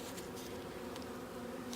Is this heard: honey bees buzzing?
yes